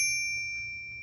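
A Royal KMM typewriter's margin bell rings once, a bright clear ding that decays slowly while the carriage reaches the margin, alone with no talk.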